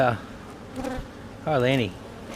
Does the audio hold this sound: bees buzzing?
yes